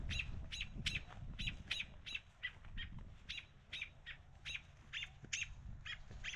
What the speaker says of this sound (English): That's a very angry mama bird